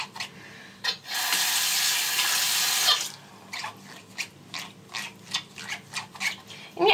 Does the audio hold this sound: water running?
yes